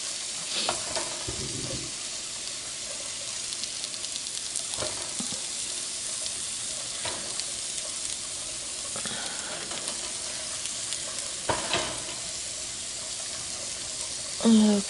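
Browned bratwurst sausages being placed into a hot pan, giving a steady, fairly quiet sizzle and hiss with a few louder bursts and some clattering at close range.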